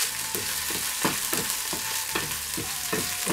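Onions fry with mustard seeds, cumin, cinnamon and cloves for a Tamil Nadu style mutton soup, giving a steady close sizzle broken by a rhythmic series of scraping stirs.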